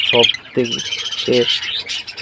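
Budgerigars in a breeding colony chirp and squawk in short repeated bursts, close and fairly loud, with constant high twittering in the background.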